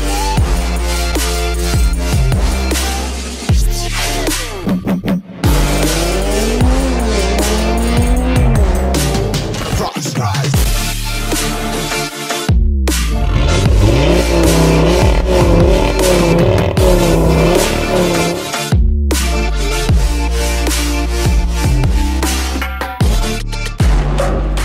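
A 500 hp Audi RS3 tuned by ABT revs hard in repeated loud bursts, the engine pitch sweeping up and down between short gaps, near and aggressive.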